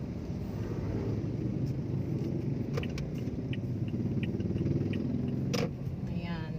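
Road traffic, with a service van edging in nearby, gives a steady close engine rumble and low idling drone, broken by a few faint clicks and a brief sharper knock near the end.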